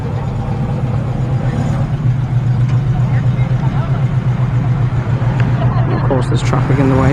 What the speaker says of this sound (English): Saab 96.